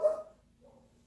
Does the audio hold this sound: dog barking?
yes